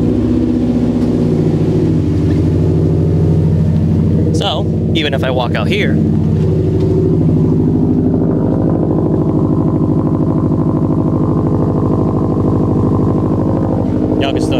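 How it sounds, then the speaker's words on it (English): Several car engines warm up together, a loud continuous rumble and drone running the whole time with some revving, while a person talks over it near the start. "All the cars warming up."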